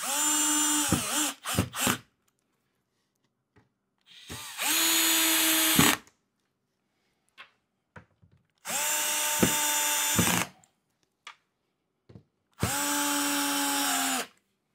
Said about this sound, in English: And then we just screw them down.